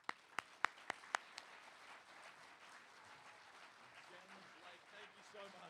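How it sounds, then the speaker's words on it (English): Audience applause at the Invent Idaho 2017 State Finals, opening with a few sharp, close claps before settling into steady, moderately faint crowd clapping. "giving a big round of applause"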